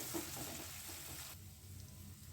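Tomatoes, capsicum and onion fry in a pan over a gas flame, giving a steady, close hiss and sizzle that softens slightly as the flame is turned down.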